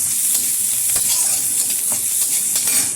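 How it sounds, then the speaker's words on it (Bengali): Sliced onion and slit green chillies fry loudly in a pan for a bitter gourd and potato fry, a dense steady sizzle broken by repeated scraping strokes of a spatula. "পেঁয়াজটা একটু নেড়ে চেড়ে দিচ্ছি, দিয়ে দিচ্ছি দুটো কাঁচা লঙ্কা চিড়ে রাখা"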